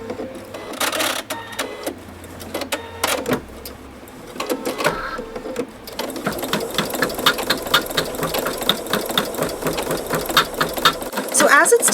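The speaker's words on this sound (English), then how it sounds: "So as it stitches this color of the design, you can see that the needle is poking really big holes in the fabric" An embroidery machine fitted with a wing needle stitches the first color of a punched-work tab tie design in the hoop, its needle hammering in a fast, steady mechanical rhythm that grows denser and louder midway, close and continuous.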